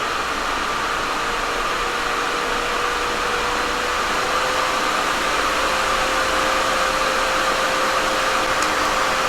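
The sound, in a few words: nail dust collector running on high suction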